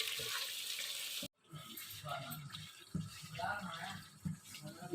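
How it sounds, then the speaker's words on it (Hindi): Mutton pieces browning in a pan while bhindi gosht cooks, giving a steady close sizzle with a short drop to silence, then continuing under faint background noise. "गोश्त को हम भून रहे हैं।"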